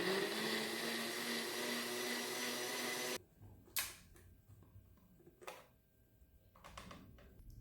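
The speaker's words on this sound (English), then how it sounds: "now I'm going to blend this up" A blender whirs loudly for about three seconds blending pecans and evaporated milk, then cuts off, leaving a few clunks and handling knocks in a quiet room.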